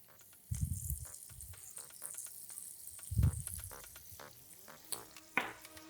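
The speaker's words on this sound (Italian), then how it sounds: "Aggiungiamo le cipolle al burro." Onions frying in butter in a pan, a quiet steady sizzle with a few louder stirring bursts and scrapes, heard alone without talk.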